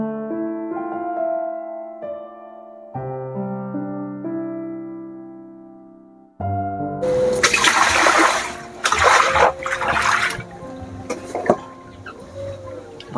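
Water splashes and sloshes as laundry is rinsed by hand, loud close bursts of churning water in the second half, after a stretch of tonal music, with a voice talking over part of it.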